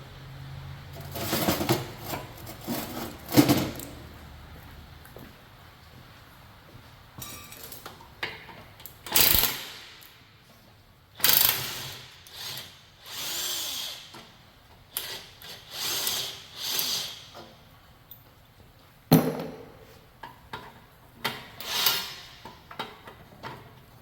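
Ratchets and hand tools work on a Ford 8.8 rear differential with C-clip eliminator bearings, giving irregular bursts of clicking, clattering metal and ratcheting, close by, separated by quiet pauses.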